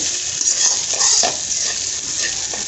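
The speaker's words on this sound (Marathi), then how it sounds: "आता हे व्यवस्थित हलवून घ्यायचं." Sabudana khichdi being stirred in a pan, a steady scraping and soft sizzling texture that continues closely and evenly throughout, with no voices.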